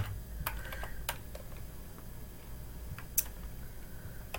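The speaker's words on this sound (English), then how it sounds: "I'm going to type in issues" Keys clatter on a computer keyboard as a search query is typed, a quiet, irregular run of separate taps with short pauses, close and alone.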